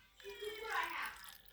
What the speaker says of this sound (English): You put your pet under. Watch. You let it drip on him.